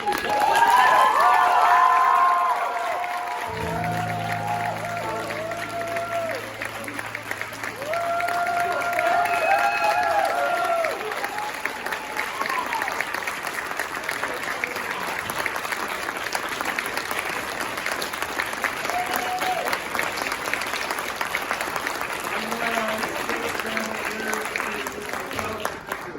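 A high school theatre audience applauds the stage crew after a performance of Peter and the Starcatcher, a long, dense roar of many hands with light cheering, opening over a brief burst of voices and music.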